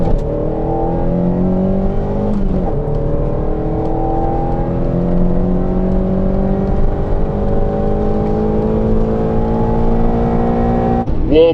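A ZSTB car on a test drive after air-fuel ratio tuning, its engine droning steadily and rising in pitch through the gears, with brief dips at the gear changes, heard continuously from inside the cabin.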